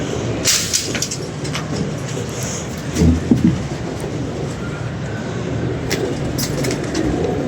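Pigeons kept by a Pakistani pigeon fancier, with faint cooing and bird sounds under a steady background hum, a brief louder burst midway and a passing mechanical rumble.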